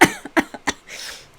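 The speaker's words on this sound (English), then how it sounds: "which turns into a cough" A burst of loud, close coughing: four or five harsh coughs in quick succession, then a short raspy breath.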